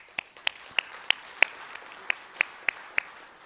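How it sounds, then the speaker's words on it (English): Sparse applause for tribal board members at a business meeting, about ten distinct, evenly spaced claps from a small group, with no sustained ovation. "so give them applause"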